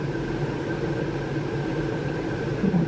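Steady whirring hum of an electric fan running continuously, even and moderately loud, with a faint tonal whine, no talking.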